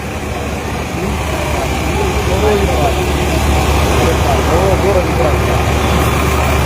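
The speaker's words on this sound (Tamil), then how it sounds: "பாருங்கள் இது ஃபுல்லாக டிராஃபிக் ஜாம்" Idling cars and trucks jam a one-way street in Mayiladuthurai, a steady low engine drone filling the air while a person talks over it.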